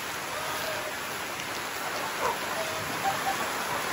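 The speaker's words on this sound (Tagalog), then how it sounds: "Maulan." Heavy rain pours steadily outdoors in Olongapo, an even, dense hiss of drops with a few faint spatters on top, no voices over it.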